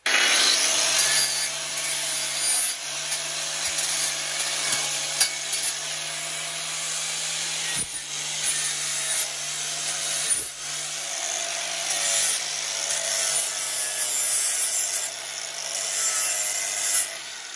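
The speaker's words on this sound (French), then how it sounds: "Donc maintenant on va ébavurer ici" A freshly cut metal tube is deburred by hand, producing continuous rasping scrapes in uneven strokes with brief pauses, close up over a faint steady hum.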